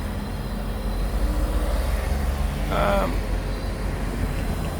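A freight train backs slowly down a rail yard track to couple onto another consist, giving a steady low rumble with faint mechanical clanks and a brief squeal near the middle.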